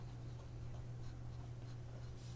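Faint hand writing on paper, a soft continuous scratching of the pen under a low steady background hum, quiet and close, with no talking.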